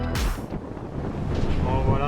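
Strong wind above 50 knots buffets the microphone aboard a racing sailboat in high seas during the Vendée Globe, with a loud gusty roar, water rushing and a sharp burst near the start, and no talk.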